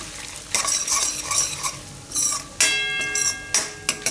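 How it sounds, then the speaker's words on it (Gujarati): Raw peanuts and asafoetida fry in hot oil for a Gujarati tomato-peanut curry, with a close crackling sizzle and bursts of brisk stirring and scraping in the pan. No one speaks. "કાચા સિંગદાણા હોય એટલે તેલમાં નાખો એટલે થોડાક આમાં શેકાઈ જાય એમ, મસ્ત આવે સુગંધ"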